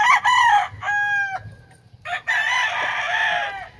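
A rooster crows loudly and close by in a Filipino backyard flock of gamefowl, giving a few sharp, separated calls broken by short gaps of quiet, with no talk over them.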